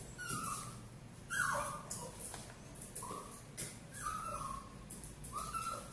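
An anxious puppy whimpers in a series of high, thin whines that come about once a second, close by, over steady background noise.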